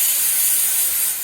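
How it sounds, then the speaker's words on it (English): Brake cleaner aerosol sprays onto new trunnion parts being fitted to a 5.3 LC9 engine, a loud, close, steady hiss lasting just over a second that eases slightly at the end. "Give a little brake clean spray."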